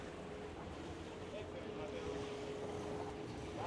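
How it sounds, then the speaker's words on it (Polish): Steady broadband wind rushes across a sailing yacht on open ocean near Panama in roughly 18-knot gusts, with water wash and faint rigging whine underneath; no one speaks. "Ale się rozwiało. 18 węzłów."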